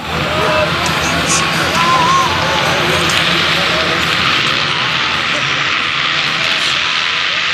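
A field of motocross bikes, including KTM and Yamaha machines, roars off the starting gate at the MX1 Nationals in Murray Bridge, a loud continuous wall of engine noise that swells and holds, with a commentator talking over it.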